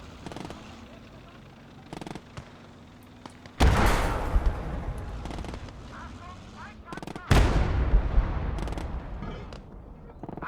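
Two loud, booming sniper rifle shots ring out in the World War II game Gates of Hell Ostfront, each a heavy blast with a long rolling echo, over quieter background battle noise and distant pops.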